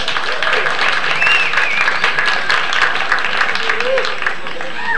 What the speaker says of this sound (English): How's about a nice round of applause